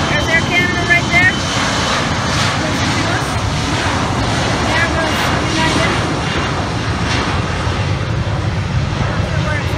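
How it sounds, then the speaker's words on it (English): A United airliner's jet engines roar steadily at high power during a fast takeoff at John Glenn International Airport, heard from a nearby planespotting spot as a loud, continuous rush with faint background voices. "Here goes United for a fast takeoff."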